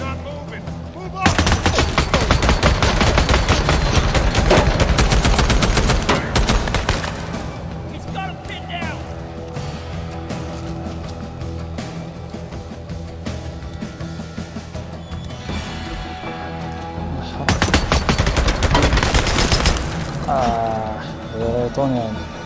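Gunfire in the Days Gone video game: dense bursts of rapid automatic shots, loud and close, in two intense stretches separated by a quieter middle stretch with lighter firing and background game noise.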